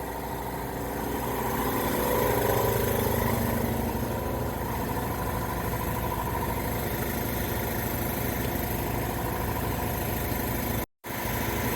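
A 2010 Subaru Outback 3.6 on a lift with its rear wheel spinning on its own, turned by the drive shaft and differential; a steady, close mechanical hum and drone runs evenly throughout, cutting out briefly near the end.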